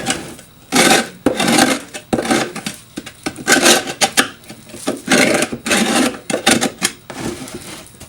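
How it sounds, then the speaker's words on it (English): Hard scraping of propolis from the tops of wooden beehive frames with a hive tool during seasonal hive maintenance, a series of loud, rasping strokes in irregular bursts, close up with no talk. "along the top here, we're scraping any propolis off the top"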